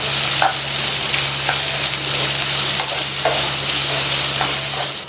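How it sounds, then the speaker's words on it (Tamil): Finely chopped large onions sauté in a pan, giving a loud, close, continuous sizzle with a few soft spatula scrapes and a low steady hum behind it. "2 பெரிய சைஸ் பெரிய வெங்காயத்தை பொடியாக கட் பண்ணி சேர்த்து இந்த வெங்காயத்தோட கலர் வந்து நல்லா மாறுற அளவுக்கு வதக்கிக்கணும்."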